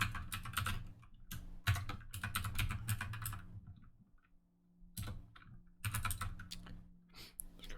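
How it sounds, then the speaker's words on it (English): Bursts of typing on a computer keyboard close to the microphone, with dense clattering keystrokes in several runs broken by short pauses. "my mic's in front of my keyboard again"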